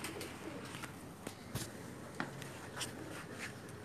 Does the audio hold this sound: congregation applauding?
no